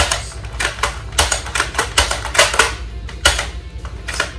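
A Nerf Elite 2.0 toy blaster is primed over and over, sharp plastic clacks and ratcheting snaps in an irregular rapid series, close and fairly loud with no voices.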